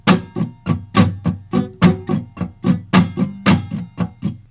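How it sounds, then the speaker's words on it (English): Muted guitar strumming the Bo Diddley clave beat: percussive, scratchy chops in a steady syncopated hard-soft pattern, close and alone with no voice over it. "The best way to practice that is just with the muted strum at first."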